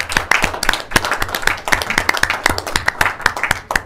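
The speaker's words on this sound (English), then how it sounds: "If we could give them a round of applause," A round of applause from committee members at a Senate standing committee hearing, dense and steady clapping that carries on throughout at moderate volume.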